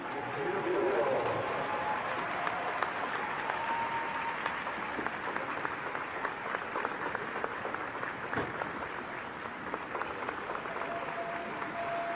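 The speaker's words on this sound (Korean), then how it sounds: "참어머님께서 꽃다발을 받으실 때 큰 박수를 보내주시기 바랍니다" A large audience gives sustained applause as six young children present a bouquet of flowers at a ceremony. The clapping is dense and even throughout, with crowd noise beneath it.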